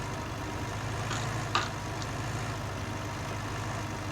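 A County 754 four-wheel-drive tractor engine idles in a steady low rumble, with a brief light knock partway through and no talking.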